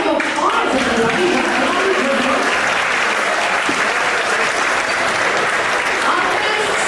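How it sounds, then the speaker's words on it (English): Crowd applause at a live auction during a gingerbread house competition evening, sustained clapping from many hands, loud and even, with faint voices mixed in. "here's a huge round of applause, everybody."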